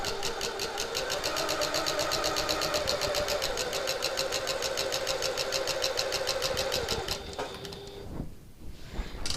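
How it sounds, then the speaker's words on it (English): A sewing machine stitches around the box corner of a reversible hobo bag, whirring with a rapid, steady mechanical chatter that runs evenly, then stops near the end with a brief clunk. "So I'm just sewing around this box."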